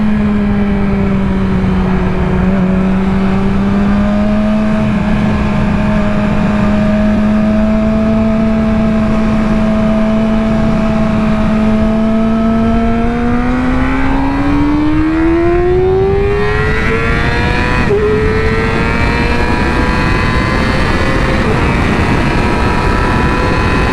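A sportbike accelerates hard while merging onto a highway, its loud engine note climbing steadily through the gears with a brief shift dip, over constant wind roar.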